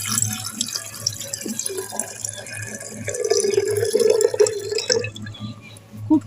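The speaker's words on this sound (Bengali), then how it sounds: "এবার আমি জলটা জারের মধ্যে ঢেলে দেব।" Cooled water is poured into a jar, giving a steady trickling pour that rises in pitch midway, then stops with a few drips.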